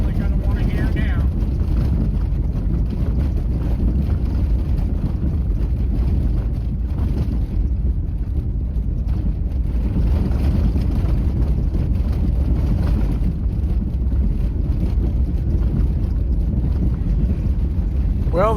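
An off-road vehicle rolls up a washboard dirt road on the Corn Creek run, giving a constant, close, rumbling rattle mixed with wind buffeting throughout.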